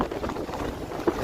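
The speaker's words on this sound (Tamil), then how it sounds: "நல்லா காத்து" Steady wind buffets the microphone high on Velliangiri mountain, a continuous broadband rush with gusty swells and a brief louder thump near the end, no voices.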